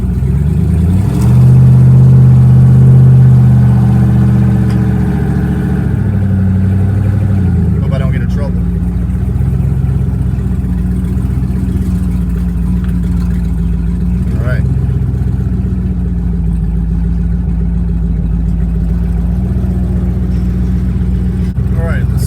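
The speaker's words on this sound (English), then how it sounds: "How this twin turbo LS swap Range Rover Sport sounds. Wide open throttle." A twin-turbo LS-swapped Range Rover Sport at wide open throttle, a loud, steady low engine drone with a rising rev near the start, then a sustained pull heard from inside the car while people talk over it.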